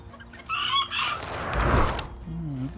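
Farm chickens clucking nearby, a burst of hen calls followed by a few lower, rising cackles, loud and close with faint background noise.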